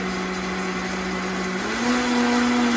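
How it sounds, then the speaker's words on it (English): A blender motor whirs steadily and loudly throughout while blending a strawberry and banana smoothie, its pitch rising slightly partway through. "I found that running the blender this way"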